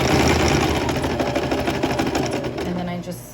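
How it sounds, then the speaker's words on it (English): A sewing machine stitches down fabric on a gypsum-colored skirt, running steadily and close with a continuous motor whir, with talk over it. "You're gonna sew down over here and make sure that all of this is sewed down."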